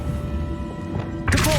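The Levioso spell cast in the video game Hogwarts Legacy, a sudden magical burst with a dull thunk and bright shimmering rise arriving near the end, over a steady low game ambience.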